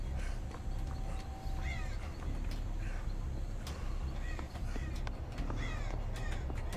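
Crows caw repeatedly in the Dead by Daylight video game, giving several harsh calls at irregular intervals over a constant low rumbling background, with no talk.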